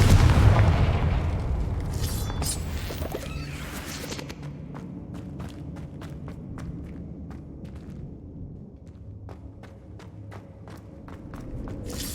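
A Confringo fire spell explosion in Hogwarts Legacy, a heavy booming blast with low rumble that fades into a quieter stretch of scattered crackling ticks and footsteps.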